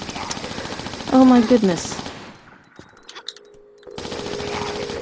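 Gunfire exchange in the Tomb Raider Temple of Shiva custom level, a quick burst of sharp shots followed by a brief quiet stretch, with a voice exclaiming over the action.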